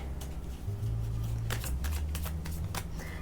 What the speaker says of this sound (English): Let me do a little bit of shuffling on these cards real quick